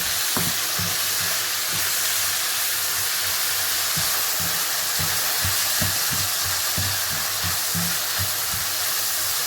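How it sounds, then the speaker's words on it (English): Steady, dense sizzling of onions and chicken frying in a hot pan, with occasional louder pops and crackles, close and continuous with no talking. "Frying the onions"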